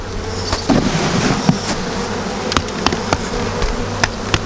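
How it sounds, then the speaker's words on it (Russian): Honeybees from an early-spring colony with a drone-laying queen are shaken off a hive frame, buzzing loudly in a dense swarm with sharp knocks and thumps over the drone. "Все, стрясаем пчелу."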